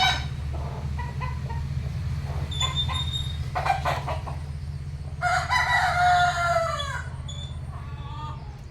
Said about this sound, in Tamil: ஒத்து கொக்கை கண்டா இவ்வளோ கோழியும் பயந்துட்டு இருக்கீங்க